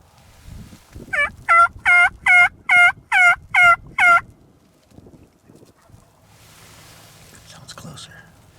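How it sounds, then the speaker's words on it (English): A wild Kansas spring turkey gobbler sounds off in a rapid burst of seven or eight loud rattling gobbles. Afterwards comes quiet hunting-blind rustle and faint whispering. "Did he just gobble? Yeah, they both did."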